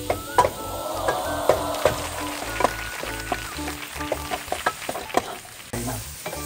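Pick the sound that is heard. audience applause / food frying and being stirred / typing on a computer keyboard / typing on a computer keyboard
food frying and being stirred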